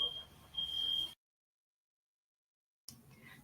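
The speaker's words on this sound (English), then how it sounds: "I see there's a fire alarm going on." A fire alarm goes off in the background as a faint, steady high-pitched tone, then the sound cuts out completely.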